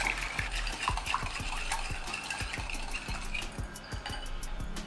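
Milk and jaggery are stirred together in a vessel until the jaggery dissolves, a close, regular knocking of a spoon against the container with a wet swishing underneath, steady throughout and without talk.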